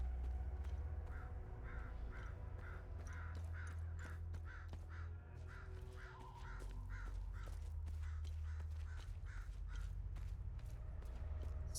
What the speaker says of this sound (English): So many crows.